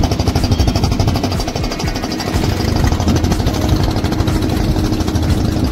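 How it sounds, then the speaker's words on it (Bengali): A small motor boat's engine chugs steadily and loudly up close on the Dawki river near Jaflong, Sylhet, a dense, continuous rattling drone that persists without break. "নৌকা আমি নিজেই চালাবার চেষ্টা করি"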